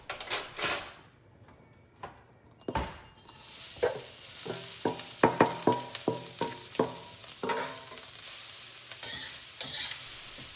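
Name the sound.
stir-frying carrots in oil in a wok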